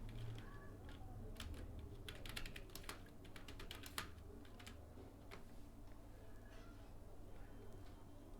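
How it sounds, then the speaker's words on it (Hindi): Rapid typing on a computer keyboard while entering text in PowerPoint, a steady run of close, crisp key clicks over a low background hum, with a voice talking now and then. "अब यहां पर हम लिख लेते हैं अपना टेक्स्ट जो हमें लिखना है।"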